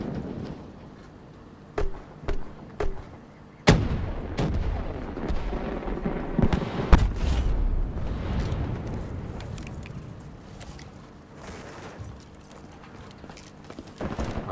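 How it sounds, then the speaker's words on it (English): Several sharp gunshots ring out in a video game firefight, scattered isolated bangs with booming reverberation, over a rumbling background of movement and ambience. "Who the hell is shooting at me?"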